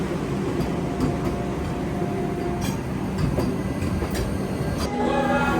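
Vande Bharat Express train passing close by, a loud continuous rumble with rhythmic clickety-clack wheel beats and brief metallic squeals throughout, with no talk.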